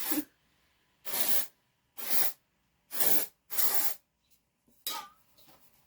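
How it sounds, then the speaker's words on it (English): Dry shampoo sprayed onto hair from an aerosol can in five short, loud bursts of about a third of a second each, evenly spaced, with a fainter sixth puff at the end and quiet between. "we're going to go ahead and freshen up the hair with some dry shampoo"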